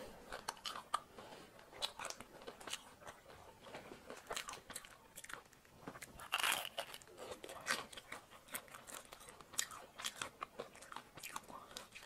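Close, quiet crunching and chewing of a snack, with repeated bites and crisp crackles in an irregular rhythm, occasionally joined by soft rustling.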